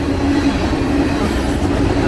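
A BNSF freight train rolls past in Coon Rapids, a dense, continuous rumble of railcars with steady low clatter and a faint metallic whine, close and loud throughout.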